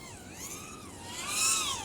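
A 1408-size 3200kV brushless RC motor spins up with a thin, high electric whine that wavers in pitch, swelling louder toward the end of a brief burst.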